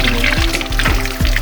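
Cold spring water pours steadily from a natural source beside a bridge, a continuous splashing trickle close by with no talking.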